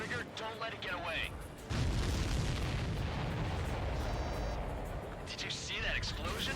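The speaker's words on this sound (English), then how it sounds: "Did you see that explosion? Looks like that's one of them down." A supply ship explodes in the Ace Combat 7 flight combat game, a sudden loud boom that swells into a long, roaring rumble and lingers for several seconds. Radio chatter comes before and after the blast.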